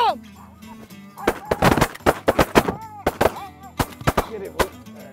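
Shotgun blasts fired at Canada geese on a hunt in Alberta, a rapid volley of many sharp loud reports in close succession, with hunters' voices and honking geese mixed in.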